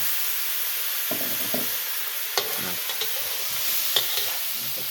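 Minced pork and long eggplant stir-fried with garlic and chili in a hot pan, a constant sizzle and hiss with scraping spatula strokes and occasional clinks of utensil on metal.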